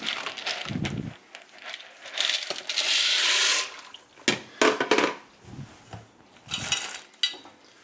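Dry pasta is tipped into a pot of water nearing the boil, with a run of rattling, clattering pieces, bursts of hissing and splashing, and a few separate knocks and scrapes, close and fairly quiet.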